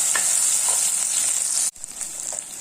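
Ginger sautés in hot oil with green chilli and curry leaves for a prawn curry, making a loud, steady hiss that cuts out briefly and then resumes a little quieter.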